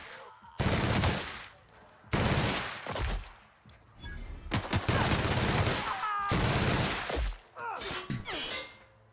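Gunfire in the game The Outer Worlds: four heavy bursts of shots separated by short pauses, loud and close, with crackling impacts and a brief flurry of metallic clatter at the end.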